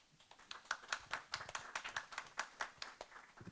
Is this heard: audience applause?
yes